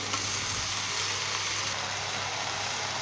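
Okra curry sizzles in a hot pan while it is stirred, giving a steady, close frying hiss with faint scraping throughout.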